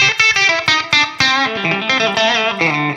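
Electric blues guitar with low reverb and a touch of delay plays quick picked notes and short bends, loud and clear with no voices.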